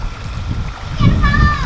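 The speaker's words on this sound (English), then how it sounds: "you guys tell us who makes the biggest or bestest splash" A cannonball jump splashes into a backyard swimming pool, a short burst of water landing close by, with excited children's voices rising over it.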